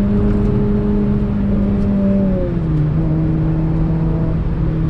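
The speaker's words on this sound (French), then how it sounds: "le F4R chante vraiment dans l'habitacle" A Renault Clio 3 RS's F4R engine drones loudly from inside the cabin, pitch shifting as the engine climbs and changes gear while the car powers through a curve under full throttle, with a Scorpion exhaust line fitted.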